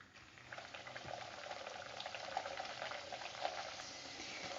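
A puri fries in hot oil for besan laddoos, giving a steady, close, bubbling sizzle with fine crackling throughout and no talking.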